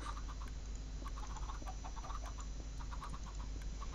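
Chickens cluck on a Minecraft chicken farm in a steady, dense chorus of short clucks over a constant background hum, with no voices.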